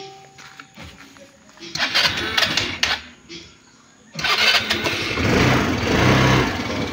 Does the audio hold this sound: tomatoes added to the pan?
no